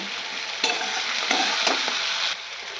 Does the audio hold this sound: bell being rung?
no